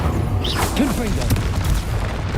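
A Confringo blasting spell from the video game Hogwarts Legacy detonates with a loud, deep boom and rumbling blast. Battle effects and other spell sounds swirl around it.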